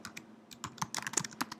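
Fingers tap quickly and irregularly on a computer keyboard, a close run of crisp clicks with no talking.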